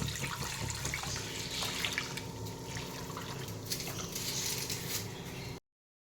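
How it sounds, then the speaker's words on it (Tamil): Filtered sugar syrup is poured back into a kitchen pan, a continuous close trickling and splashing of liquid that runs steadily for several seconds and then stops abruptly. "ஃபில்ட்ரு பண்ண சுகர் வாட்டரை திருப்பியும் கடாயில் ஆட் பண்ணிக்கலாம்."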